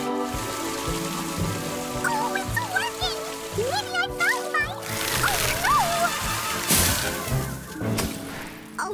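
A cartoon rain shower patters and splashes over flowers in a springtime garden, a steady wash of droplets mixed with whimsical music and sound effects and cheerful voices talking over it.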